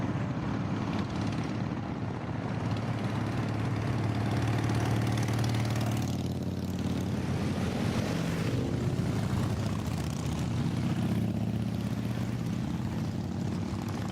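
Motorcycle engines drone steadily on the climb up Monteagle Mountain on old US 41A and 64, one continuous loud engine hum with no talking.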